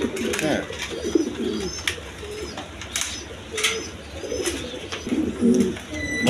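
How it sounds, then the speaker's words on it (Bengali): Racer-breed pigeons coo repeatedly in a loft, soft throaty coos close by with occasional wing flaps and chirps, while someone talks over them. "খুব ভালো জাতের কবুতর।"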